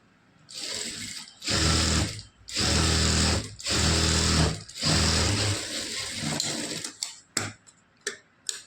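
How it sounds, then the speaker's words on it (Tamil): A sewing machine stitches a sleeve onto a blouse in several loud bursts of fast motor whir with short pauses between, ending in a few brief clicks and taps. "மிஷின்லேயே கூட நம்ம தையல் போட்டுக்கலாம்"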